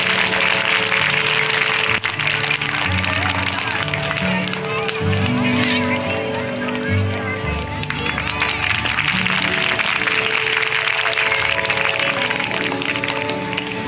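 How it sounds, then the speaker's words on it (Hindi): A steady wash of clapping from a crowd at an ashram welcome for a visiting saint. It stays at an even level throughout, mixed with sustained tonal music or chanting and voices. "तालियां बजा के चले, बड़ा उत्तम समय है ये।"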